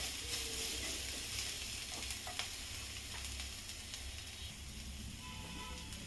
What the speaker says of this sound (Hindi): इसे भी मैं 1-2 सेकंड अच्छी तरह भून लेती हूँ।